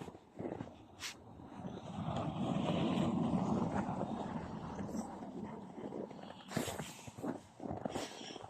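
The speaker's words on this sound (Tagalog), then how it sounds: "Mahangin lang talaga." Strong wind on a Finnish evening outdoors, a broad steady rushing roar that swells through the middle and gusts again near the end, with a few brief knocks and rustles over it.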